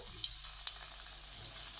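Khoya gulab jamun frying in hot oil over a low flame, a soft continuous sizzle dotted with small bubbling pops and light clicks, close but quiet, with no voices.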